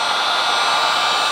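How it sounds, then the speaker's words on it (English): A heat gun blows hot air onto car window tint, giving a steady, loud, close whooshing drone like a hair dryer with no change in pitch over the short stretch and no voices. "I'm just going to take the heat gun"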